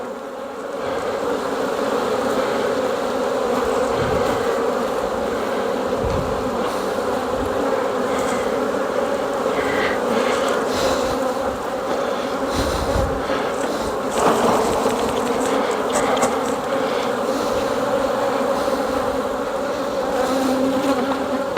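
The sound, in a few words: honeybees buzzing around hive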